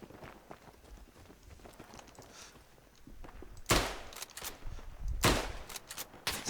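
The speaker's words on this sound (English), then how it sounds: "I'm not sure where that rifle fire is coming from." Rifle fire in the World War I game Tannenberg, two sharp, loud shots a second and a half apart standing out from a low background of footsteps and distant battle noise.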